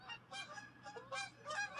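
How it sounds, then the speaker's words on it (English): Canada geese honk repeatedly in a snowy winter woodland, faint and distant, several overlapping calls in quick succession. "The Canadian geese."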